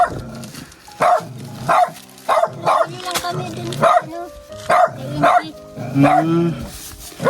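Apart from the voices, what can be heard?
dog barking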